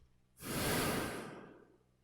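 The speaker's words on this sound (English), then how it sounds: "I'm going to do a heavy breathe into it." One heavy, drawn-out breath is pushed straight into a microphone, a loud close rushing exhale lasting about a second and a half before fading.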